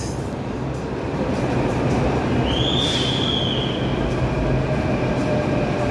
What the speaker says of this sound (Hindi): भले ही मेट्रो आ गई है